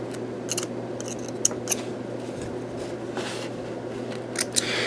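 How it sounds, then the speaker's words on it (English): Industrial thread snips cutting off excess thread on a decorative rope bowl, a handful of crisp, close metallic snips spaced irregularly over a quiet room hum. "Let me get rid of this excess thread on the end here."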